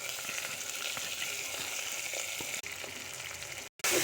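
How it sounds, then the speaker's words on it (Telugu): Tempering sizzles in a pan with peanuts added, a steady, dense crackle that cuts out briefly near the end. "తాలింపు బాగా వేగిన తర్వాత మట్టికాయలు వేసుకోవాలా"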